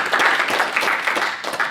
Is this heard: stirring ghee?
no